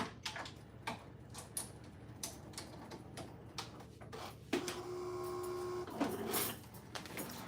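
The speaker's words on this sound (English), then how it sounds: "I know people like to make sure they see the machines cutting." A craft cutting machine working quietly, with soft ticking and clicking, then a steady whirring hum with a faint tone for about a second before the clicking resumes; no talking.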